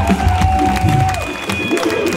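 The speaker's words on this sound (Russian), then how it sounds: "Эти аплодисменты тебе." An audience at a Saint Petersburg show claps and cheers steadily for a couple of seconds, with a voice heard over the crowd noise.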